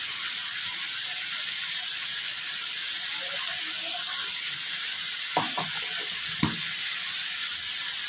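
Cauliflower frying in a pan with spices for a cauliflower and paneer dish, a steady bright sizzling hiss with a few brief stirring clatters near the end, with no talk over it.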